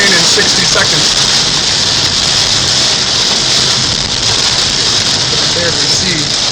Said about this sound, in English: The rain will be over in 30 seconds.